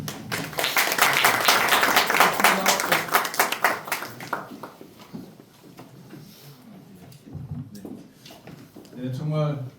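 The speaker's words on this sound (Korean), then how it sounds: "큰 박수로 부탁드립니다." An audience at a Korean Democratic Party policy forum claps for a member of parliament, lively clapping for a few seconds that tapers off into quiet room noise before a voice speaks.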